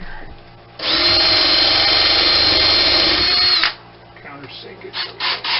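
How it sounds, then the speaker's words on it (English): A power drill drives a screw through an extension into 3/4-inch plywood on a model railroad classification yard build, a loud steady whir lasting about three seconds before stopping, followed by faint handling noises. "So I can just screw it down like this here."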